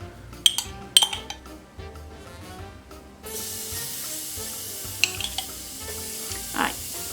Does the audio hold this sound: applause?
no